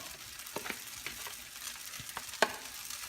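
Vegetables for pancit bihon guisado frying in a pan, with a soft steady sizzle broken by several sharp scraping stir strokes, one louder clack near the end.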